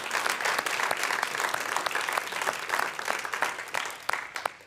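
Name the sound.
meeting audience applauding volunteer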